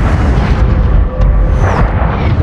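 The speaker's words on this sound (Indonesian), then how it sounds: "terjadi ledakan disertai kilatan cahaya merah yang sangat terang" A loud, deep, rumbling film explosion with heavy low-end roar and crackling debris, sustained throughout rather than a single sharp bang.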